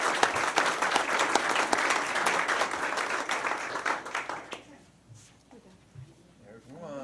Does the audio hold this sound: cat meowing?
no